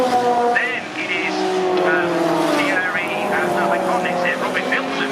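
V6-engined DTM race cars pass at Brands Hatch in 2019, their loud engine notes rising and falling and staying close throughout, while a commentator talks over them.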